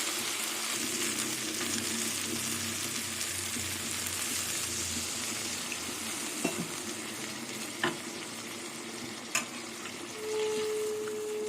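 Soybean and prawn curry sizzling in a hot pan as water is added, a steady frying hiss with a few sharp clinks of a utensil near the end; no talk.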